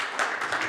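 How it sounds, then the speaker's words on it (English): Brief burst of audience applause at a county commissioners' meeting, a quick dense patter of many hands clapping together, fairly close and steady. "Another round of applause for sure."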